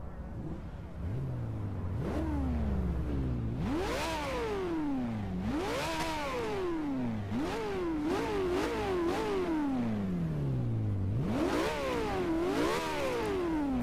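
A sports car engine, a McLaren P1 in the video game Forza Horizon 2, revs hard in repeated rising and falling sweeps, loud and close, with brief pauses between each vroom and no talking.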